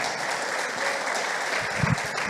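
Steady crowd applause, dense and sustained throughout, with a few louder low thumps near the end.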